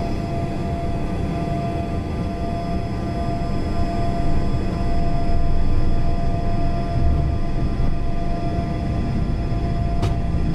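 Learjet 45 jet engines during the takeoff roll at Montreal Mirabel, a steady loud turbine roar with a constant high whine that swells slightly mid-run, heard from close up without talk.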